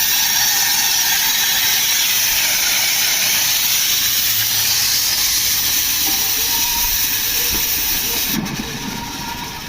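Boiling coolant in a Chevrolet Aveo releases a loud, continuous hiss of escaping steam filling the whole stretch, steady and close, with a faint rumble underneath.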